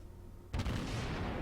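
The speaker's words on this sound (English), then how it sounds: "while driving away you can shoot most of your guns. Which is what I'm doing here" Rear turret guns of the cruiser Nürnberg fire in World of Warships as she sails away, a sudden booming salvo after quiet hum, then a sustained rumbling roar lingering to the end.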